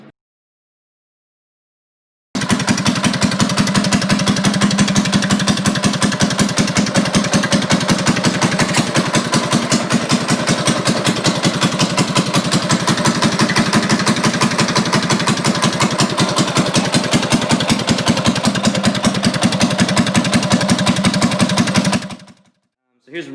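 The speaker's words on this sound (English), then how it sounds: "Sounds like there's something in the blower housing." Race kart engine running steadily at a fast idle with a buzzy, pulsing tone and a rattle from something loose in the blower housing, loud and close for about twenty seconds, then cutting off.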